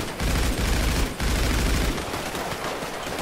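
Loud, dense gunfire in GTA 5 roleplay, heavy bursts of shots that fill the whole clip with only brief dips, close and forceful with no talking over it.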